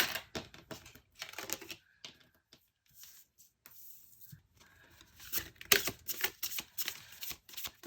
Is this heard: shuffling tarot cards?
yes